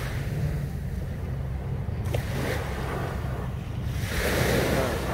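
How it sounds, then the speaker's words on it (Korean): Ocean surf rolls onto the shore at Songjeong Beach as steady wind buffets the microphone, a continuous loud wash of breaking waves with surges building toward the end. "지금 현재 보고 있는 영상은 송정해수욕장입니다"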